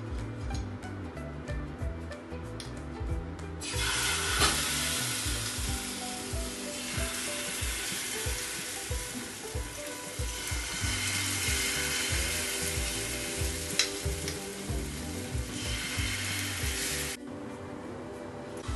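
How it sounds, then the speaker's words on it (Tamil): Dosa batter made with gram flour sizzling on a hot oiled pan, a steady, loud frying hiss that runs throughout, with a faint clatter of a utensil, and no talk. "இப்போ வந்து தோசை மாவு ஊற்றிக்கலாம்."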